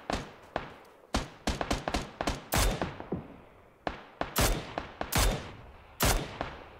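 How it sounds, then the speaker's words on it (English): Gunfire in the video game Warzone, a run of sharp single shots and quick bursts with loud, punchy cracks and short decays, irregularly spaced and fairly close, without speech. "there's some more shots over here"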